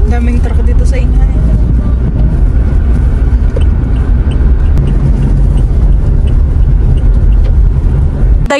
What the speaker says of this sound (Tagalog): Daming truck dito sa inyo.